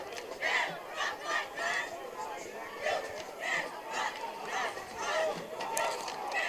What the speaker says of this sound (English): we can hear the Evanston cheer team from all the way across the field